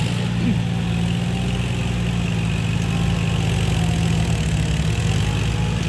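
A used Kubota three-cylinder tractor engine runs steadily at idle with its original engine, a continuous loud low rumble holding an even throbbing tone from start to finish, close by and with no talk.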